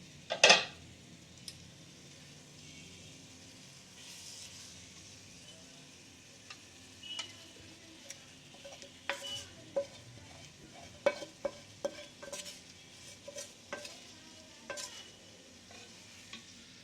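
Fried chicken is stirred into biryani masala in a pan. A ladle scrapes and clinks against the metal in irregular strokes over a quiet, continuous sizzle, and there is a louder knock at the start.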